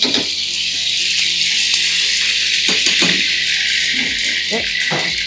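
Chopped garlic sizzling in hot oil in a pan while biryani is being prepared, a loud steady crackling hiss with a few utensil clinks and stirring knocks underneath.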